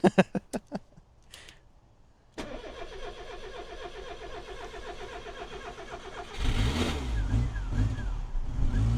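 A Rover Metro car engine cranks in a few sharp bursts, then catches and runs steadily, revving louder toward the end.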